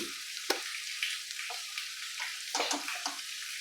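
Onions cooking in oil with ginger for chicken biryani give off a soft, continuous sizzle, with a few sharper spatula scrapes and taps in the pan.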